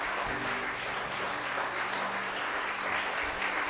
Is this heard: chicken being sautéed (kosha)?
no